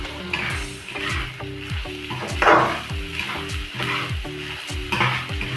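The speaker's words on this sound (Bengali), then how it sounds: "এটা কিন্তু আরেকটু ভাজা ভাজা করে নেব।" Spices frying in a pan with salt and turmeric for a Bengali kochur shaag ghonto, with a loud, close sizzle and rhythmic scraping strokes of a spatula stirring against the pan.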